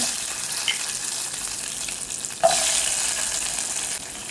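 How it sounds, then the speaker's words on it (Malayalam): Mustard seeds sizzle in hot ghee, a loud, steady hiss close by, with a couple of faint pops and a stir. "നെയ്യൊന്ന് ചൂടായി വരുന്ന സമയത്ത് നമുക്ക് കടുക് ഇട്ട് കൊടുക്കാം."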